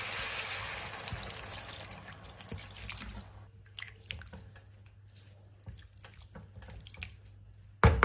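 Water is poured into a cooking pot for boiling rice with fried bits of meat for bagara biryani, a loud rushing pour that fades into faint drips and splashes, close by.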